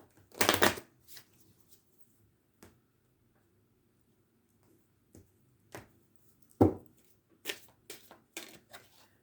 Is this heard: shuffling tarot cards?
yes